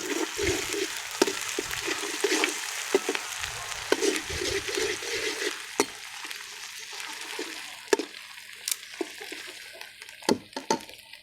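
Garlic and ginger paste sizzles and crackles steadily in a hot pan, with scattered sharp pops and occasional scraping stirs throughout.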